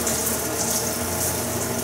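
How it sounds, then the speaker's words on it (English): A pressurized water spray rinses excess fluorescent penetrant off a metal part during liquid penetrant testing, making a steady, loud, close hiss with no pauses and no talking. "I want to spray off the excess penetrant."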